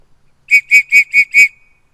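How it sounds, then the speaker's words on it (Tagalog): A pigeon-calling whistle sounds in the open air at Pensacola, Florida, giving five sharp, evenly spaced shrill blasts, loud and close, with no talking around them. "Nakarinig na sila ng pito."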